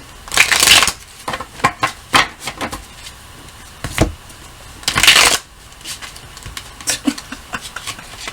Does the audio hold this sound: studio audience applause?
no